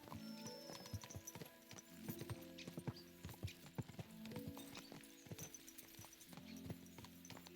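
Horses galloping in Kingdom Come Deliverance II, their hooves beating a quick steady clip-clop rhythm close by, with faint game ambience underneath.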